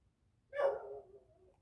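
A single dog barks once indoors, a short sharp bark with a trailing whine, moderately close and fairly faint against quiet room noise.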